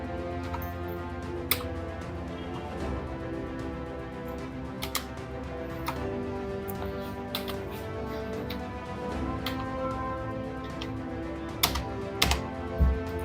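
Keys clack sparsely on a computer keyboard while an ABC ID number is entered, scattered soft taps with a few sharper strokes over a low background hum.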